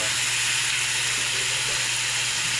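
Garlic, onion and ginger sautéing in a pan, a steady, close sizzle with a constant hiss throughout and no talk.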